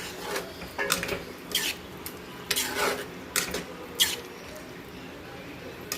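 Prawn kurma with coconut milk stirred in a pan, a spoon scraping and clinking against the metal in short, irregular bursts with quiet gaps between, no talk.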